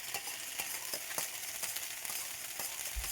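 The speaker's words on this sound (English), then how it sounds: "Give it a good stir" Prawns in sweet and sour sauce with bell pepper and onion are stirred in a hot pan, giving a steady close sizzle broken by regular scraping clicks of the utensil, with no voices.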